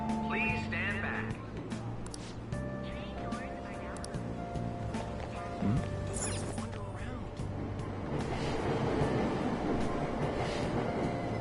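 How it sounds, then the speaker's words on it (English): A subway train departs a station platform in the video game Persona 5 Royal. A steady rumble of rail noise and mechanical hum sits under chimes and automated announcements, rising as the train pulls away. "Train doors are now closing."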